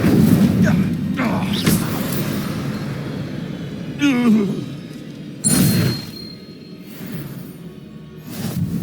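Spell-casting effects from a Harry Potter video game, including the Incendio fire spell: a few separate whooshing bursts, one with a rising, warbling magical tone and another a short booming flare, over a low ambient game background.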